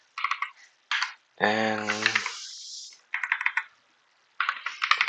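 Typing on a computer keyboard in short bursts of crisp, close clicks separated by silent gaps, with a brief spoken word in the middle.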